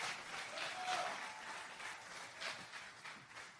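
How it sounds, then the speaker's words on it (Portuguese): A congregation claps during a church sermon, a soft, steady wash of applause somewhat distant and fairly quiet throughout. "Aplaude aí, irmão, me ajuda a pregar."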